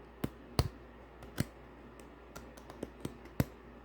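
A deck of holiday-themed playing cards is flicked, giving a quiet series of about ten sharp, irregular snapping clicks up close against a faint background hiss.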